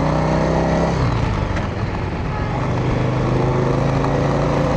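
A Yamaha Virago motorcycle fitted with a suicide shifter revs loudly up close, then its engine note drops and steadies as it pulls away in first gear, a deep continuous rumble.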